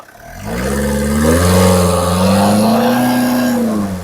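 A car engine revs up nearby, its pitch climbing and holding high in a loud, sustained roar before easing slightly.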